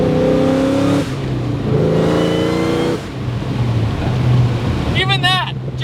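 A supercharged Ford Mustang SVT Cobra Terminator engine pulls through the gears, its pitch climbing, dropping at each shift, then climbing again under a voice.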